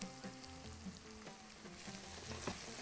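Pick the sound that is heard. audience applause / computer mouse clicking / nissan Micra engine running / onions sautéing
onions sautéing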